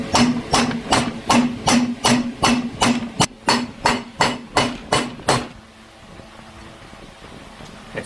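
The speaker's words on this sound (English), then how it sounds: "That's why we use a copper hammer," A copper hammer taps a bearing into the stator cover of a BMW S1000RR motorcycle: about seventeen sharp, evenly spaced metallic knocks over five seconds, loud and close, then a quiet stretch of room noise.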